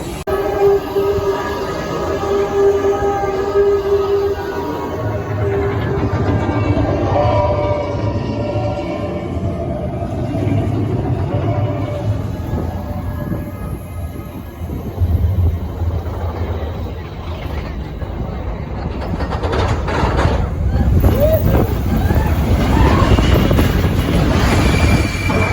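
Expedition Everest roller coaster at Disney's Animal Kingdom rumbles along its track, a continuous rolling roar with rising clatter and a surge of noise toward the end, heard from on board amid riders' voices.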